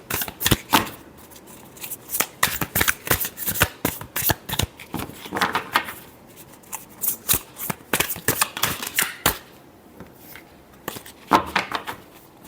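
Tarot cards shuffled by hand in a steady run of crisp riffling bursts and flicks, close and fairly loud, with short pauses between passes and no talk.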